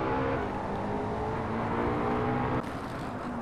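McLaren 570S race cars lap the Nurburgring with a loud, continuous high-revving engine drone. The whine holds steady, then briefly changes pitch near the end, like a gear shift.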